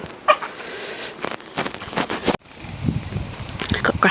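Young backyard hens born in April cluck at an allotment garden, short scattered calls heard close by while a person talks over them.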